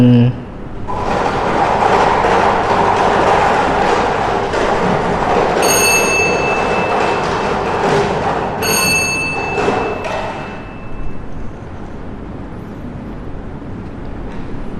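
A Lao Pattana lottery number-drawing drum spins during a live televised draw, giving a steady broadband whirring rattle for about ten seconds, cut by two short ringing tones, before it fades to a quieter hum.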